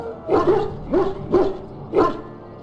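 A dog barking in the fantasy role-playing game Dragon Age: Origins: four distinct, evenly spaced barks close up, each a short rising woof over a quiet background.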